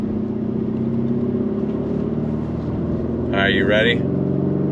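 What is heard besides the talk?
Porsche Cayenne Turbo e-Hybrid engine revving, accelerating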